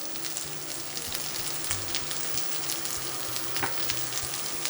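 Frozen potato hash browns fry in a little oil, giving a continuous soft crackling sizzle with scattered pops, heard close and alone.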